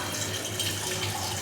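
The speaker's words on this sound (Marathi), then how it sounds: "आता मी ह्याच्यामध्ये पाणी टाकते." Water pours steadily into washed rice for tawa pulao, a continuous close splashing gush with no pauses.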